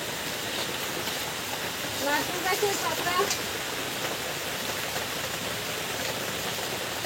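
Steady rain on a monsoon day pours down throughout, an even wash of close hiss that stays constant while a person talks briefly over it.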